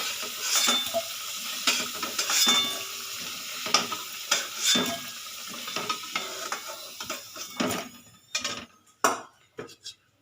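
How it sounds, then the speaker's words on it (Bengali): Fried potatoes are lifted one by one from hot oil in a pan, with a soft sizzle under repeated metallic scrapes and clinks of a utensil that grow sharper toward the end. "আলুটা ভাজা হয়ে গেছে এবার আমি আলুগুলো তুলে নেবো একটা একটা করে"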